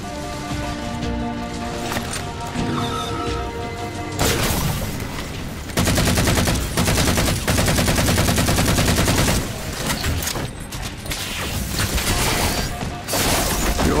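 Heavy weapon fire in the Halo video game, a fuel rod gun, with loud continuous blasts and crashing explosions layered over a game soundtrack, dense and sustained throughout with no talking.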